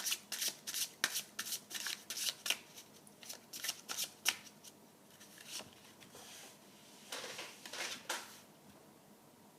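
Tarot cards are shuffled and drawn by hand, a close series of quick riffling and flicking bursts with short pauses between, crisp and soft against a quiet room.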